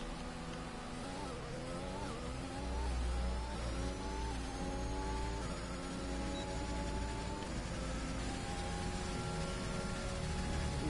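Several F1 2021 race cars rev and accelerate together in a continuous, rising and shifting engine whine, loud and steady throughout, with no talk over it.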